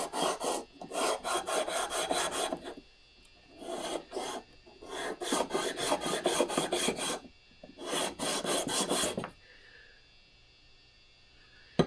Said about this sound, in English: I just want to get that rust off of there.